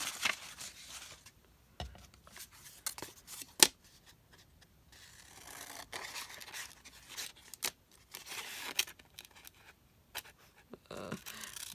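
Scissors snipping paper for a craft project, a series of short crisp cuts in irregular bursts with quiet pauses between, close and fairly soft.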